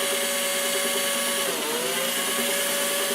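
A battery drill powered through a mains adapter for wire brushing runs at a steady loud whine with a constant motor tone, dipping briefly in speed midway before settling back, with no talk.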